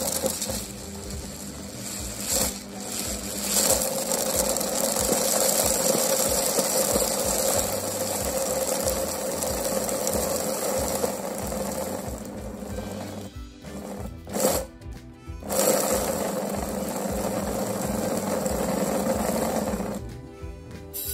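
An electric grinder blends sage leaves and pine seeds, a loud close whirring motor with a rattling, grinding texture, running in long bursts broken by short pauses.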